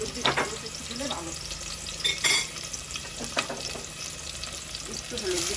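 Prawns and onion sizzle and fry in a pan with scattered stirring clatters and splashes, heard close and moderately loud at a home stove.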